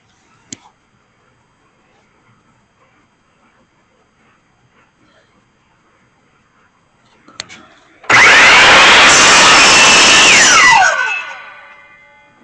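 A power saw cuts through a wood piece for a table centerpiece, starting abruptly after a quiet stretch with a few faint knocks, running loud and steady for about three seconds, then winding down as the blade spins to a stop.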